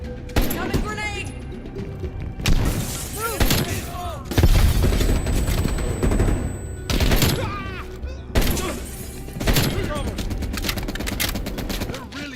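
Heavy machine gun fire and rifle shots in Call of Duty Black Ops Cold War, coming in loud sustained bursts with booms and short gaps between them.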